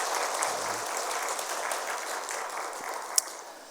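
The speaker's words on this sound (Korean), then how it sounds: "우리 박수로 환영하도록 하겠습니다" Church congregation applauding to welcome a new member during a service, a steady even round of many hands clapping that tapers slightly, with one sharp click near the end.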